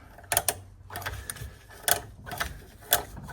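A worn brake caliper piston is cranked out with a tool, giving close mechanical ratcheting clicks in short irregular bursts separated by brief pauses.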